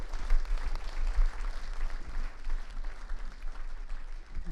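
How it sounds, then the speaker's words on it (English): A studio audience at a breakfast show gives a guest a warm round of applause, with soft, steady clapping from a crowd heard at a distance, fairly quiet, and no voices. "Please give a warm round of applause to Kenny McPeak."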